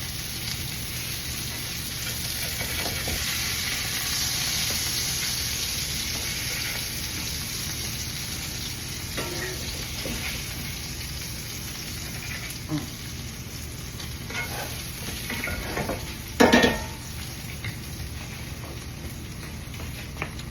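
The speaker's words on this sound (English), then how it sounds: "Now I'm going to flip my hamburgers and cook them 4 more minutes on the other side." Hamburger patties sizzle in a frying pan after being flipped, a steady close hiss and crackle lasting about twenty seconds, with a brief clatter near the end and no talking.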